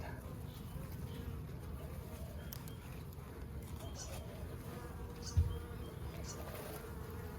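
A swarm of bees held in a netted laundry basket hums steadily at close range, a dense continuous buzz broken by one brief knock near the end.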